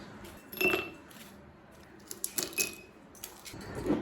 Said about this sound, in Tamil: கொஞ்சம் ஐஸ் கியூப் சேர்த்துக்கலாங்க